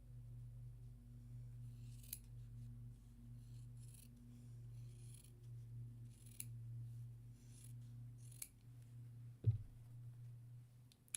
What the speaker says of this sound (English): I don't know why I'm using my paper scissors for that.